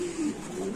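A black Lahori pigeon gives a brief, soft, close coo at a fancy pigeon farm.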